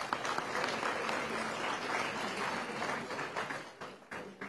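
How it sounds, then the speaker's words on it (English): A convocation audience at Geetanjali University in Udaipur applauds gold medalists, a thick, steady wash of many hands clapping that holds evenly and thins slightly near the end. "I request our audience to have a round of applause for all the gold medalists."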